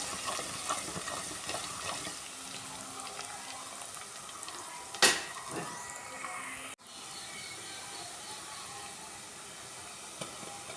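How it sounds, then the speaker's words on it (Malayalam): Garlic sautés in oil for a pickle, a quiet continuous sizzle with light stirring, one sharp clatter midway and a brief drop in the hiss soon after. "വെള്ളുള്ളി ഇട്ട് നന്നായി വഴറ്റിയെടുക്കുക"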